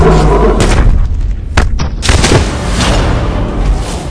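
Heavy booming gunfire and impacts fill a King Kong movie trailer, loud and close, with several sharp blasts over a rumbling background.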